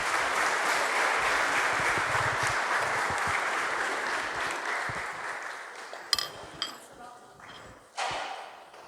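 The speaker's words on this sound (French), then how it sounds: "Nous allons applaudir nos enfants parce que nous les aimons tellement." A church congregation applauding children, steady sustained clapping from many hands that fades out toward the end, followed by a few clinks and knocks in the hall.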